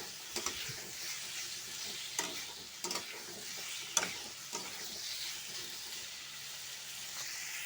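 Spices being fried and stirred in a pan over a raised gas flame, a fairly quiet, continuous sizzle punctuated by irregular scraping and tapping strokes of the spoon.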